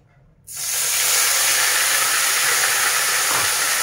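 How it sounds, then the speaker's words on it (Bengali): Onion, ginger and garlic paste hits a hot pan for a Bengali bhola fish curry, bursting into a loud, steady hiss and sizzle after a brief quiet start, then holding strong to the end with no talk. "প্রথমে আমি পেঁয়াজ, আদা, রসুন 3টে পেস্ট করে রেখেছি মিক্সিতে, সেটা আমি এর মধ্যে দিয়ে দিচ্ছি।"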